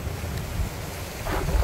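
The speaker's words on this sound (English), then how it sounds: "And I tell you, it is so windy over here." Strong coastal wind at the mouth of the Coquille River near the lighthouse in Bandon, Oregon, roars and buffets the microphone in heavy low gusts, with ocean surf faintly mixed in.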